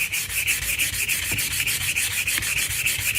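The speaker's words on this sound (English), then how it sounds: "This piece of sandpaper, I've used it a couple of times, so it's doing okay still" Steady, close scraping of 120-grit sandpaper rubbed back and forth over a pickaxe, a continuous abrasive hiss with a regular stroke rhythm and no talking.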